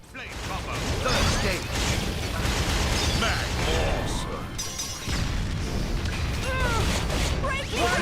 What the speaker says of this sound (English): temporarily switch to Pyra and let's go Mega Explosion